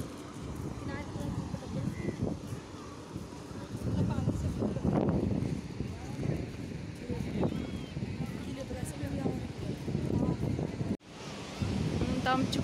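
Surf and wind on Vagator beach in Goa, a steady broadband wash of waves with gusting wind buffeting the microphone and people talking throughout, with a brief drop near the end.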